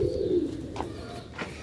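Rooftop pigeons in Sialkot give a soft low coo, then brief fainter calls follow, close by with no talking.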